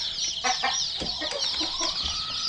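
Chickens of several breeds, including Wyandottes, cluck softly and steadily in a coop, a continuous low chatter with no voices.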